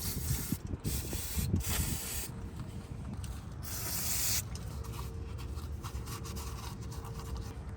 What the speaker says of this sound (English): get your brake spray and spray it down a little bit